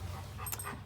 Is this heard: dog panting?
yes